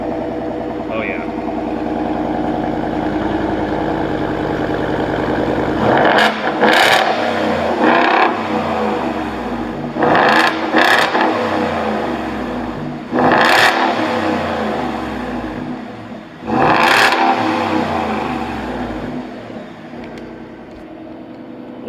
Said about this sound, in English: Corsa Sport Exhaust on F150.